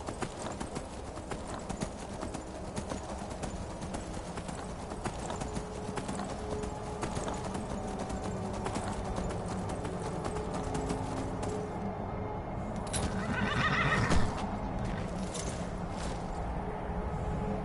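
In the Skyrim game world, a horse's hooves clop steadily and quickly at close range over a dense mechanical rumble. A whinny rises near the end.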